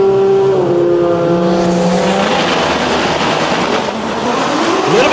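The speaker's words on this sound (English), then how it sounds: "A little bit of tire chatter for her left-hand side" A bright pink Nissan GTR launches at a drag race, its engine roaring loud and close with rising, shifting tones and a rough chattering from the tires, dense and continuous.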